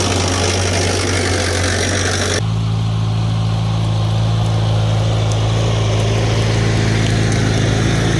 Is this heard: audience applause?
no